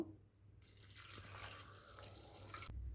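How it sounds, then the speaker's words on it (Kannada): Water pours into a pressure cooker holding tomatoes, onions, garlic and green chillies for lentil sambar, a close, steady splashing gush lasting about two seconds before stopping abruptly, with no talk. "ಇದಕ್ಕೆ ನೀರು ಹಾಕಬೇಕು"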